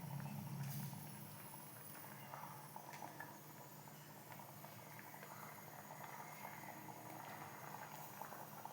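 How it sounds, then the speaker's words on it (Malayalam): Kerala-style mackerel curry bubbles in a pot, a soft continuous boiling patter with small pops, fairly faint and steady throughout. "നല്ല തിളച്ച് വരുന്നുണ്ട്"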